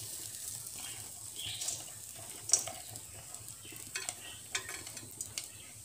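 Vermicelli fries in ghee with coconut and dry fruits while being stirred, giving a soft steady sizzle with scattered scraping clicks of a spoon against the pan, close and fairly quiet, with no talk.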